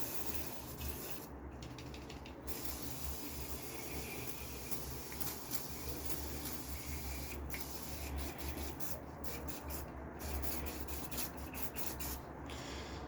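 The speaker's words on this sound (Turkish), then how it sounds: "İlk önce spreyi çalkalıyorsunuz ve ayakkabının her tarafına sıkıyorsunuz." Suede cleaning spray hisses onto a shoe in a run of short, sharp bursts, some close together and some spaced apart, over a quiet room with no talk.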